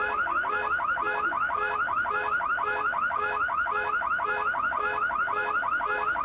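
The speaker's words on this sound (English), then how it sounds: "Oh, Viper car alarm?" A Viper car alarm blares a loud, rapid warbling siren, steady and close, with the rising-falling tones repeating in quick cycles and no voice audible in this stretch.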